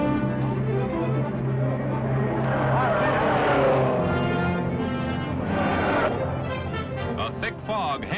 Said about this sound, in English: Seconds and minutes pile up as Johnny Fitch puts his car on the pitch-dark road again.